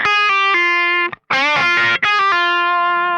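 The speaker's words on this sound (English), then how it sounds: "And then you come down like a blues lick with Dorian sound happening here." A distorted electric guitar plays a short Dorian blues lick of held notes with a quick wobbling bend in the middle, loud and up front with no talking.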